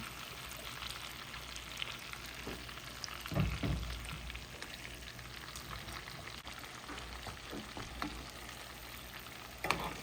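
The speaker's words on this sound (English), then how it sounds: "You want to keep basting your steaks." Steaks fry in a cast iron skillet with butter while being basted, a close, steady crackling sizzle broken by a few louder spoon clanks and splashes.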